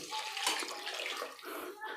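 Water is poured from a cup into soaked rice in a pot for tomato bath, a steady close splashing pour lasting the whole moment, fairly quiet.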